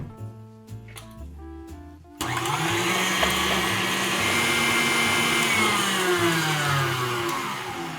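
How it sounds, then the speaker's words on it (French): An electric mixer kicks on abruptly and whirs loudly and steadily while whisking eggs, its motor pitch wavering slightly as it beats them frothy, after a few seconds of background music. "on fouette nos œufs"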